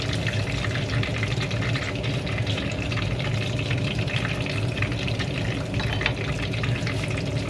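Fishballs fry in hot oil with a steady, dense sizzle and crackle that holds at an even level throughout, close and continuous.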